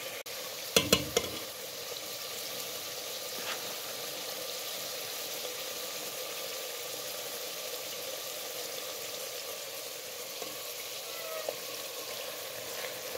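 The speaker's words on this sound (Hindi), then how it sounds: "तो अभी मैं मेथी डाल रही हूँ और इसको जो है मिक्स करेंगे, तो इसको अच्छे तरीके से बस भून लेंगी मैं" Fenugreek leaves sizzle steadily in a hot pan as they are stirred and fried, a continuous soft crackle with a few brief scraping knocks near the start and no talking.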